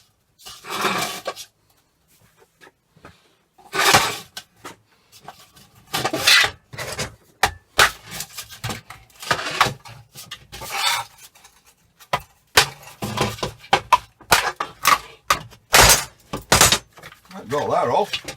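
A hammer knocks plastic edging off a dusty hair dryer hood in irregular bursts of sharp knocks and scraping rasps separated by pauses, with a voice speaking briefly in between.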